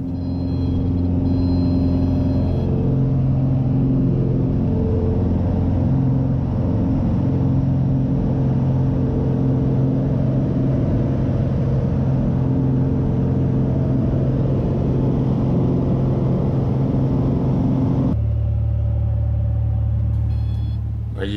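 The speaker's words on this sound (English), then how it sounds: "Takeoff is rough, but not so challenging, because there's plenty of space once you're light on the wheels" A small plane taking off from a jungle landing strip in Costa Rica: a loud, steady engine drone holds for most of the clip, then its tone shifts abruptly near the end.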